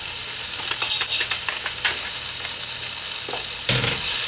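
Cabbage is stir-fried in a pan, sizzling steadily and loudly up close while a utensil scrapes and tosses it in quick, irregular strokes.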